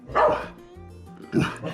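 A dog gives two close, loud barks on command at home, the first stronger and the second following about a second later, with no talk over them.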